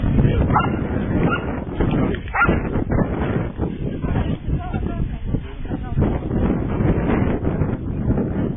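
Dogs, border collie types at a 2012 event, yip and whimper amid steady outdoor wind noise, close and continuous, while people talk over them.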